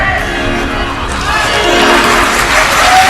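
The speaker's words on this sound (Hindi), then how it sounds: "ये गायकों की ताली है" A large crowd at a Ram Katha gathering claps and cheers loudly, the applause swelling and holding steady with shouts and whoops mixed in.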